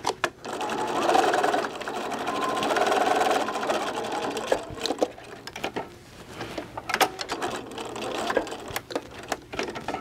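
A sewing machine stitches with black thread in rapid mechanical bursts, close and moderately loud, starting and stopping with brief pauses between runs.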